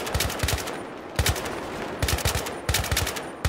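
An RPK machine gun fires in Battlefield 3 in four rapid bursts of sharp, punchy shots separated by short pauses, loud and close with no talking.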